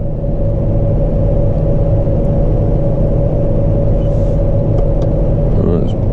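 A farm tractor engine fitted with a PTO-driven hedge cutter and front topper runs close by, a loud, steady, rumbling drone that holds an even level throughout without distinct rises.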